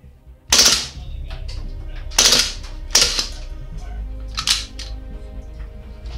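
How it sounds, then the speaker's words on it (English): An airsoft M&P9 gas blowback pistol fires through its magazine with four or five sharp, close cracks at irregular spacing, each trailed by a short mechanical rattle, over low outdoor background noise. "Well, it emptied the mag, but if you're running, I don't know, mag after mag through it, the blowback chamber gets a bit cold, starts venting"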